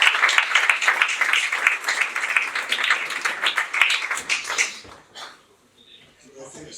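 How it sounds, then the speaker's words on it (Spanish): Loud, steady applause from the audience at a quarterly company event as a colleague is called to the stage, clapping carrying on for several seconds before fading into quieter sounds. "Un fuerte aplauso para Juan."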